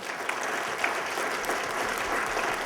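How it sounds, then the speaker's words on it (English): Audience applause at an abortion rights panel event, a steady dense wash of clapping filling the room throughout, moderately loud with no talking. "let's have a round of applause for everyone"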